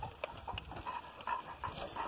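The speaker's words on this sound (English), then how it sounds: "There's the old Joe dog" A coonhound pants nearby at a hunting kennel, with quick, rhythmic breaths in a steady series of short bursts, fairly quiet and with no talk.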